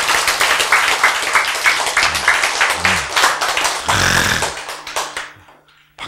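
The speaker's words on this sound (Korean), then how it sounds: "자, 이때 박수 한번 치셔야지" Audience clapping at a lecture, a loud sustained round of applause with a few low murmurs and bumps mixed in, tapering off before a final burst at the end.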